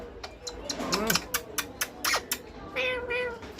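A parrot imitating a cat, repeating a string of quick meows close up, one after another.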